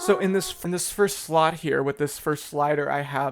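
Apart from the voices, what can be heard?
No distinct noise like a dog, phone or traffic.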